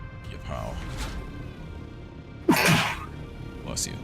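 A single sharp, loud sneeze bursts out midway through a background of steady game ambience while people talk over a voice chat during a Dune: Awakening session.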